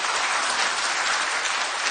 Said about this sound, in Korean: 박수 한번 쳐보시죠